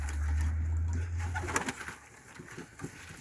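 Pigeons at an evening feeding give soft, low cooing and a few faint wing flutters as they land, quiet and close against a hum that fades partway through.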